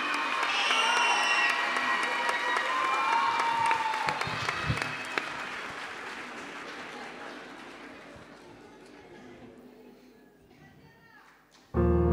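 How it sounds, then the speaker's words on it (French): An audience applauds and cheers loudly for a six-and-a-half-year-old girl performer named Anna at a children's talent evening, with whoops over dense clapping that gradually fades before a sudden knock at the end. "on va l'applaudir très très fort"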